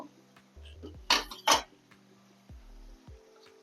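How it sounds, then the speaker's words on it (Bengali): A lid is lifted off a cooking pot of rohu fish head and bottle gourd curry, giving two short metallic clanks close together, set against quiet kitchen background and low hum. "ঢাকাটা এবার তুলে নেব"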